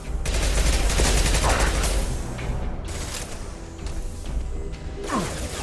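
Rapid gunfire bursts and heavy impacts in the video game Mass Effect 2, loud and dense with crashing hits through the first two seconds, then sporadic shots and clatter over a rumbling battle background.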